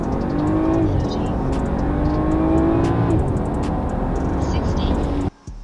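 A BMW fitted with an aFe Magnum Force Stage 2 intake accelerates hard during a Dragy timing run, its engine rising steadily through the gears with a loud, continuous drone that cuts off abruptly at the end.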